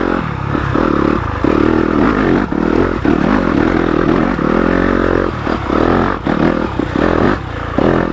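A 2020 Yamaha YZ250FX dirt bike engine runs steadily and loudly while riding a trail, a continuous buzzing drone that rises and falls slightly with throttle, with faint clatter from the terrain and no voices.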